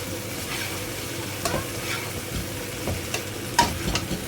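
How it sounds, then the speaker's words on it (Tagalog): Chicken meatballs and cooked tomatoes sizzle softly in a pan while a spoon stirs them, giving a few brief scraping knocks and clinks against the pan over a low frying hiss. "Isunod natin ang chicken meatballs. Haluin natin siya ng konti."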